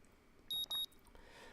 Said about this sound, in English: My alarm's beeping shatters the early morning quiet